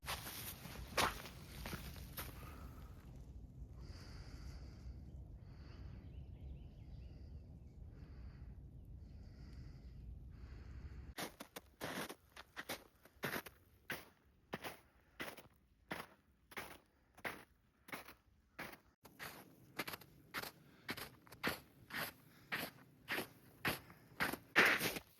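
A hiker's footsteps crunch along a riverside trail on a long solo walk by the Potomac, first a soft muffled shuffle, then a clear, steady rhythm of close, crisp steps that grows louder.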